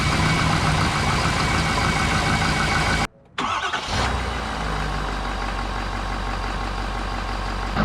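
A Ford Powerstroke or Chevy Duramax diesel truck engine idles roughly after a cold start, a loud, dense mechanical clatter that cuts out briefly and then settles into a steady, rumbling idle.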